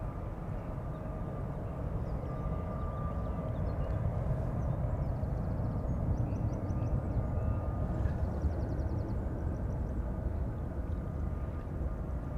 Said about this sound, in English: Star Alliance livery, Swiss. A320 going to Zurich, flight 725.